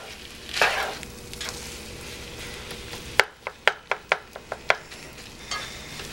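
Steak fried rice sizzles in a hot pan, then a run of sharp metallic scrapes and clacks as it is stirred, about eight quick strokes, close up.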